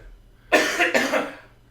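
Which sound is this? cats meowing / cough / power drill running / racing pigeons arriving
cough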